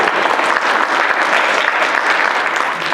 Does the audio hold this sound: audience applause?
yes